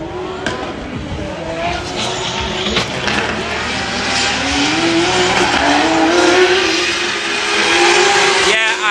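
A 1,000-horsepower BMW drift car with an N62 B54 V8 screams at high revs during twin drift battles, a loud continuous wail that climbs and holds, with tire squeal and commentary underneath.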